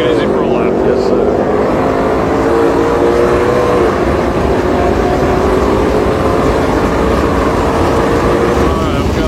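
A car is driven hard up a hill on a race track, its engine roaring loud and close at high revs in a steady drone, with a voice speaking over it.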